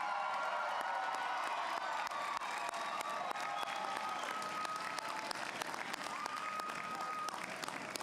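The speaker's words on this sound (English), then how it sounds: "give them a big cheer and a round of applause and thank them" A large audience at the Snow College 2016 commencement ceremony claps and cheers for families and supporters, a dense, sustained wave of applause with scattered voices, heard from within the hall.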